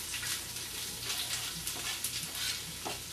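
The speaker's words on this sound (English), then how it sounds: "we're going to saute our chopped onions and finely chopped garlic" Chopped onions and finely chopped garlic sauteing in a pan, a steady close sizzle with occasional stirring scrapes throughout.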